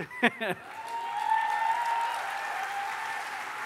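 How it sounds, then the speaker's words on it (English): An audience at the One Young World 2011 interfaith plenary applauds Archbishop Desmond Tutu. A couple of sharp sounds open it, then a soft, fairly distant wash of clapping carries on steadily. "I'd then like you all to give him the most enormous applause."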